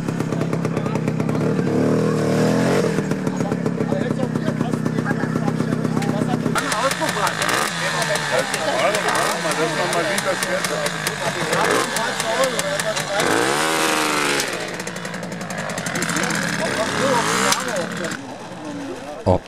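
An old bicycle fitted with an auxiliary two-stroke motor at a vintage vehicle meet in Merzdorf, its engine buzzing and revving loudly with a rattling, uneven tone that rises and falls, with voices talking underneath.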